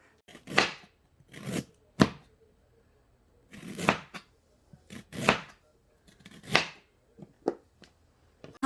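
Fresh ginger being sliced with a knife on a board, a series of separate close cuts in uneven bursts with short quiet gaps between them, no voices.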